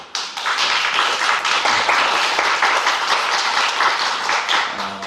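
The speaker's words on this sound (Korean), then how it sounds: "축하합니다. 박수로." A church congregation breaks into sustained applause in congratulation, dense clapping from many hands that stays steady and loud throughout with no talking over it.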